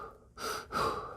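A person demonstrates breathing, first a brief pause, then two close, audible breaths, a sharp inhale followed by a longer airy exhale, heard alone in a quiet room.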